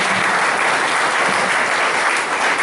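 A church congregation bursts into dense, loud applause, steady massed clapping filling the room without a break.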